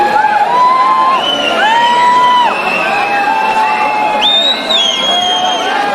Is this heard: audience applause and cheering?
yes